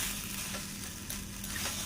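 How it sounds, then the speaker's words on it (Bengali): Tomato sauce is stirred through fish Manchurian in a frying pan over low heat: a soft, faint sizzle with light scraping of the spoon across the pan, brief and without voices. "আমি টমেটো সসটা দিয়ে ভালো করে এটা মিশিয়ে নেব"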